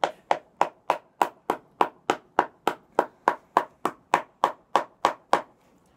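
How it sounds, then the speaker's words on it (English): A hammer pounds a large ball of aluminum foil in steady, evenly spaced blows, about sixteen sharp, dull thuds in a row, close and distinct with quiet between each strike. "I'm literally hammering like a 5-pound ball of aluminum foil into my stomach."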